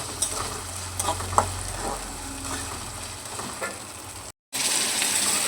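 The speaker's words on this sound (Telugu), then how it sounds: "అల్లం వెల్లుల్లి పేస్ట్ వేసి ఆ పచ్చి వాసన పోయే వరకు కొంచెం మనం వేయించుకోవాలన్నమాట." Onions, green chilies and ginger garlic paste frying in a pan, a continuous close sizzle with scraping stir strokes before the sound briefly cuts out and the sizzle returns.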